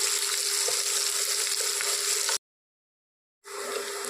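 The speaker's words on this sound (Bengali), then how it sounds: "একটু লাল লাল করে ভেজে নেবো সব পেঁয়াজ রসুন" Onion and garlic fry in a pan with a steady, dense sizzle that cuts out abruptly to silence for about a second, then resumes just as loud.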